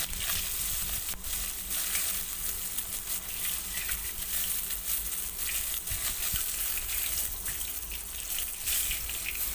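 Pieces of katla fish fry in hot oil in a pan, a continuous dense sizzle and crackle that stays close and fairly loud with no gaps.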